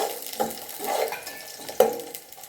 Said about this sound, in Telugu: క్యారెట్ అండ్ పచ్చిమిర్చి వేసుకొని ఒకసారి మిక్స్ చేస్తాను